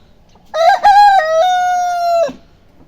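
A rooster crows once, loud and close, a single long cock-a-doodle-doo that rises, holds, and cuts off in an otherwise quiet setting.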